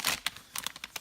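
Sheets of Hammermill Color Copy Digital paper, 28 lb, rustle and crinkle in brief, faint bursts as they are handled close by.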